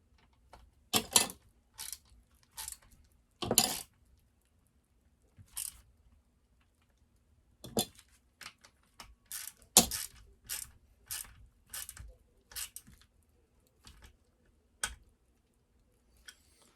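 A ratchet clicks in short bursts as fasteners are tightened on a McCulloch CPSP125C, with irregular runs of sharp, close mechanical ticks separated by pauses over a quiet background.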